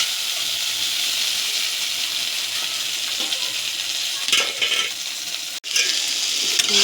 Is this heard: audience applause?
no